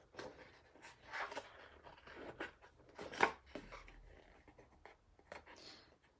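Scissors fussy-cut a stamped birthday image out of paper with quiet, close, irregular snips and soft paper rustle, one slightly louder cut midway.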